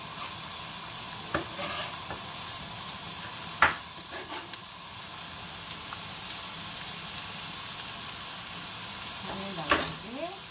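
Octopus salted fried rice being stir-fried in an oiled pan, a soft continuous sizzle broken by occasional spatula scrapes and clinks, fairly quiet with no talking.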